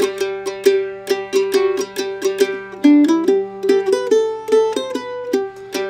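A mandolin plays a brisk two-measure potatoes kickoff variation, bright plucked notes in a steady even pulse, close and alone with no voices.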